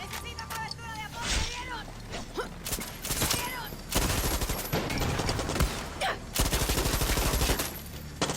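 Rapid bursts of gunfire in the video game Far Cry 6, loud and close, come in repeated volleys with brief pauses between them, while someone talks over the shooting.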